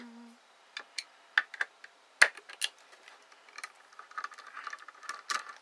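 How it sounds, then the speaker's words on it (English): Small screws being backed out of a hard drive during disassembly, giving a scattered run of light, quiet ticks and clicks at irregular intervals in an otherwise hushed room. "I just start unscrewing things."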